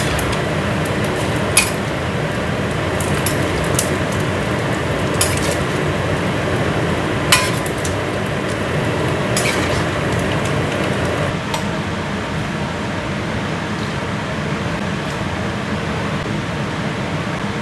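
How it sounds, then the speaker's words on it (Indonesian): Dense steady sizzle of food frying in a pan for crisping, with a few sharp clinks of utensils against cookware over the continuous hiss. "gorengnya lumayan lama"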